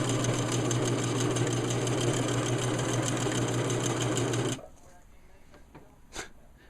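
A sewing machine stitches a quilted, insulated blanket for a DIY tree tent, running with a steady close-up whir for about four and a half seconds before stopping abruptly, leaving faint handling noises.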